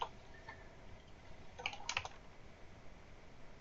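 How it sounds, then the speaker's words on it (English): Text goes into a Word 2013 table on a computer keyboard as faint, close key taps, a few scattered at first and then a short quicker cluster, over a quiet room hiss. "I'm going to type my text in here."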